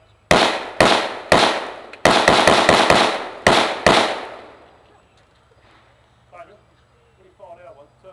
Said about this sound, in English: we're going to fire this one off to give you some idea of what it's like